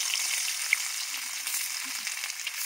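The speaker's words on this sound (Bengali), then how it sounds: "এবার একটা একটা করে মাটির চাকা দিয়ে ভেজে নেব" Fish pieces fry in hot oil in a home kitchen for a Bengali fish curry, giving a steady, close crackling sizzle with faint low clinks underneath.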